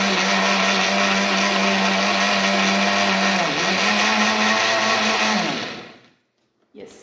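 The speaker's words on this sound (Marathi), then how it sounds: "आणि परत फिरवून घ्यायचं आहे बर्फ टाकल्यानंतर" A blender whirs steadily at close range, churning a milkshake with ice cubes for about six seconds, its pitch dipping briefly midway before the motor cuts off into near silence, with a faint knock at the end.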